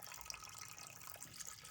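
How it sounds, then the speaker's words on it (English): Water poured into a cooking pot holding stones for baking a cake without an oven, a steady splashing gush running unbroken and fairly close throughout. "added water"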